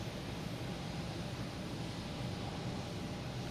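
An Air France airliner taxis at Boston Logan airport, giving a steady, unbroken jet engine roar at a moderate distance. The sound stays even throughout, with no voices.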